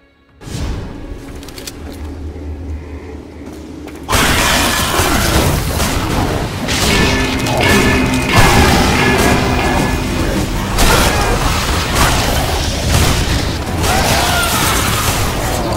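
Giant sparkly towers being destroyed in Shadow Warrior 2, a loud, dense wall of crashing, booming destruction with no voice over it. A quieter mechanical hum comes first, then an abrupt jump into sustained, thick noise that lasts to the end.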